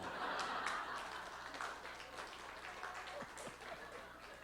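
An audience claps through a church lifelong-education seminar, a dense, steady patter of many hands that holds at a moderate level for the whole stretch, with no voice on top.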